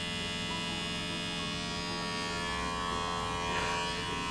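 Electric hair clipper buzzing steadily up close while shaving the head for an undercut, a continuous motor drone with a slight change in tone near the end.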